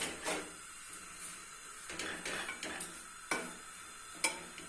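Semolina roasting in a pan on a slow flame, stirred with a spoon: soft, faint scraping strokes at an uneven pace over a low background hiss.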